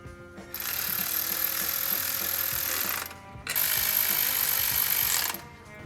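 A ratchet tightens bolts on a Toyota 2UZ-FE engine during timing belt and water pump work, in two long bursts of fast, loud clicking with a short pause between them.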